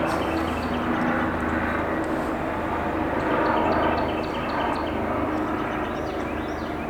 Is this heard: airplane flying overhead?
yes